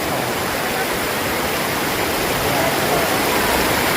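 Mountain river water flows in a steady, dense rush of close, loud hiss and splash, continuous without a break.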